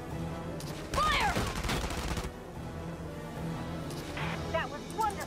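A sharp volley of rifle fire lasting about a second during a winter assault in Valkyria Chronicles 4, with voices speaking before and after and a couple of fainter shots near the end.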